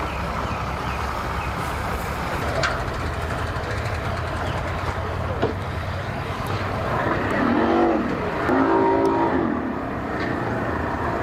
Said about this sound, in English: They're pulling the trailer out.